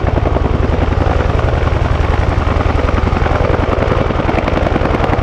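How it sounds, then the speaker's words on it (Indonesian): A yellow passenger helicopter with a loud, steady rotor chop that beats rapidly and continuously at close range, with no voices over it. "Ada lagi helikopter berwarna kuning. Wadidaw, wadidaw. Ini helikopter penumpang."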